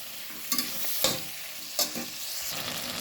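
Tomatoes fry in a pan with onions in a continuous close sizzle, broken by a few sharp stirring scrapes and clinks.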